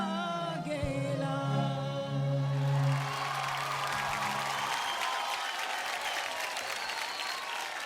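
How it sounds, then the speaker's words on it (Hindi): Sustained musical tones at a village fair talent stage show give way to a crowd breaking into loud, dense applause that keeps going to the end. "जोरदार तालियां हो जाएं।"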